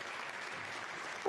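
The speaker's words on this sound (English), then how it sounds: "It's worthy of applause." Steady, even applause from the team in mission control after a satellite separates from an Ariane 6 rocket. It runs for about a second before a voice cuts in at the end.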